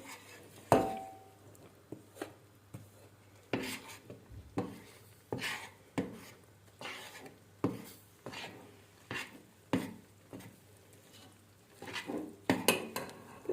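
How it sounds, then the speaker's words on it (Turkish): A spoon stirs flour-thickened dough for malağ köle in a pot, with regular scraping strokes against the metal about every second. The knocks are close, crisp and fairly quiet, with a busier cluster of clatter near the end. "Bir yandan da karıştıralım."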